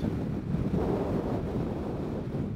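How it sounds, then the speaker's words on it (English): Strong wind roaring across the microphone while riding a Vespa GTS 300 scooter along a country highway, a loud, low, steady buffeting that fills the whole stretch. "Pretty good wind blowing there today."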